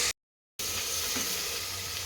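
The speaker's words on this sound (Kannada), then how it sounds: "ಒಂದು 3 ಸಣ್ಣ ಹೆಚ್ಚಿದ ಈರುಳ್ಳಿ, ಇದೊಂದು ಚೂರು ಫ್ರೈ ಆಗಿ" Three small chopped onions fry in a pan for plain biryani, making a steady, dense sizzle that starts just after a brief silence and carries on without talk.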